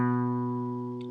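One sustained guitar note ringing clearly with rich harmonics, slowly fading over about a second, with a faint scrape of fingers near the end.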